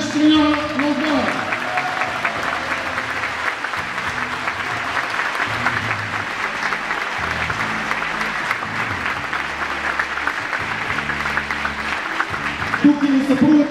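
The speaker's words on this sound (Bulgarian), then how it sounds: "Аплодисменти между другото за Наско Драмов, старши треньор на отбора" Sustained crowd applause at a Black-and-White Christmas team celebration, honoring head coach Nasko Dramov; steady dense clapping fills the whole stretch with a voice speaking over it.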